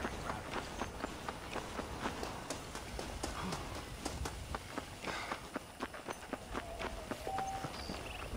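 Horse hooves clip-clop steadily in Red Dead Redemption, a rapid rhythmic run of sharp, close hoofbeats continuing throughout over a dense ambient outdoor bed.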